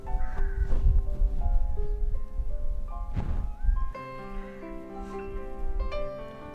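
Several crows caw outdoors near a kitchen where a vegetable coleslaw sandwich is being made, harsh calls mixed with clattering thunks and steady tonal background sound.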